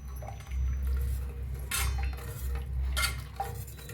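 A metal spoon stirs egg curry with gavar beans in a pan after hot water is poured in, giving repeated scraping clinks against the pan at an uneven rhythm, close and distinct.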